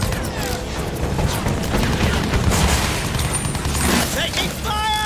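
Dense Battlefield 1 combat gunfire rattles continuously from start to finish, with overlapping bursts, booms and mechanical clatter forming a loud, busy wall of battle noise.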